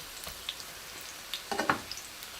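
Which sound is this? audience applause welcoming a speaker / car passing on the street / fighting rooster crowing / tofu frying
tofu frying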